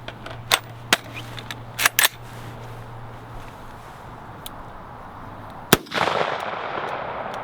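Sharp, loud unsuppressed rifle shots from an ADM UIC Mod3 rifle fired outdoors, several distinct cracks spaced irregularly, with a final report followed by a sustained rushing noise.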